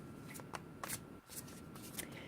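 Quiet, close-up riffling of a deck of cards, a rapid papery flutter repeating in quick bursts with no talking.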